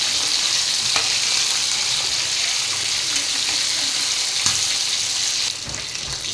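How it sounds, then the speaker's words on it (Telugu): Chicken pieces fry on their second side in a pan, a loud, continuous close-up sizzle with light stirring and crackle that drops slightly in level near the end. "చూడండి, రెండో సైడ్ ఇక్కడ వేగుతుంది కదా"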